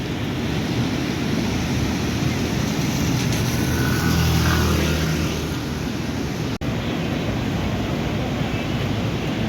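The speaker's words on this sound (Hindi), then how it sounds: "गड़गड़ गड़गड़ आवाज़ आ रही है, पता नहीं कहाँ से पत्थर गिर रहे हैं," Floodwaters of the swollen Beas river roar in a steady, dense rumble, the churning torrent carrying stones along its bed; the wash stays loud and continuous throughout, with a brief sharp knock near the end and no voices.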